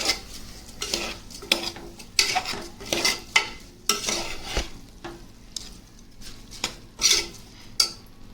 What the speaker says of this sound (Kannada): ಈಗ ಇದನ್ನ ಚೆನ್ನಾಗಿ ಅಕ್ಕಿ ಮತ್ತು ಮಸಾಲ ತರಕಾರಿ ಎಲ್ಲ ಚೆನ್ನಾಗಿ ಮಿಕ್ಸ್ ಮಾಡ್ಕೊಳ್ಳಿ